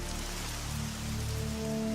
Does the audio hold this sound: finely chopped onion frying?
no